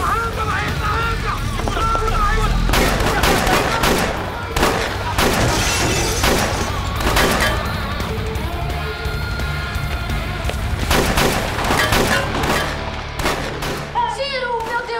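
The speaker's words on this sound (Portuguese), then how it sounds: "Os seguranças estão atirando contra a van." Security guards fire on a getaway van during a heist scene in a Brazilian drama series, giving repeated sharp gunshots and shattering impacts amid engine noise, with shouting voices over the whole stretch.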